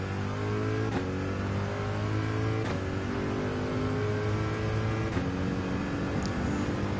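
A Corvette race car in Gran Turismo 7 accelerates hard with a continuous loud engine roar, its pitch climbing and then dropping at several gear shifts.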